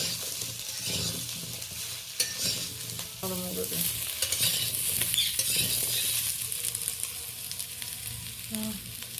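Papaya and drumstick pieces stir-fried in a wok that was used earlier for frying bitter gourd, with a steady oily sizzle and repeated scraping and clattering of the spatula throughout.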